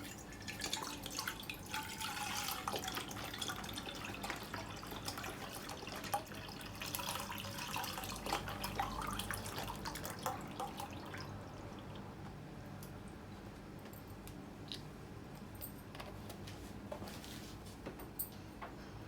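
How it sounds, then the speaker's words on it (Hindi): Milk is poured into a pan in a home kitchen, a faint, continuous liquid trickle with light splashing and dripping that fades toward the end, no voice over it. "मैंने एक पैन लिया है, उसके अंदर अब मैं सारा दूध डाल देती हूँ पहले।"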